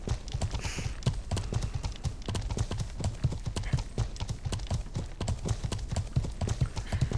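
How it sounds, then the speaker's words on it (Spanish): Horse hooves clip-clop in a fast, regular gallop rhythm in the medieval MMO game Life is Feudal, steady and close throughout with some faint background sounds. "Oye, mi caballo corre más que el tuyo, ¿eh?"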